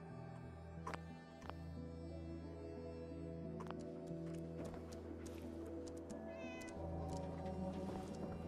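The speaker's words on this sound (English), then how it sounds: "I heard a kitty." A cat meows somewhere in the Fallout 4 game world, a few short, thin cries rising above a steady bed of game music and ambient tones.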